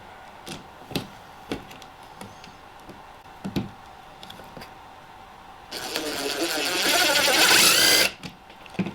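A power drill drives a screw into the mount of an LED neon light bar, giving a rising, close whine for about two seconds after a series of light taps and clicks.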